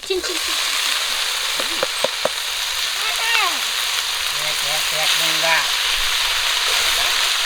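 Spinach and potatoes fry in a pan with onion and green chili, a steady loud hiss and sizzle throughout, while someone talks over it and a few utensil knocks land near the start.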